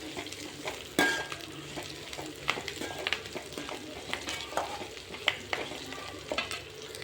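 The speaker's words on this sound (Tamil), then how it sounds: "வெங்காயம் நல்லா வதங்கணும்" Onions frying in a pan for a quail curry, stirred with a utensil that scrapes and clinks against the metal through a steady close sizzle, with no talking.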